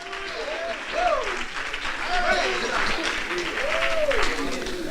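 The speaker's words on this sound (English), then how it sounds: "Let's clap our hands unto the Lord." Congregation clapping hands during worship, a steady mass of claps filling the room while a voice sings or chants over it in long sliding tones.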